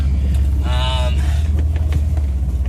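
A truck rumbles as it drives and turns around, a loud, continuous low engine drone with a brief tonal whine in the middle.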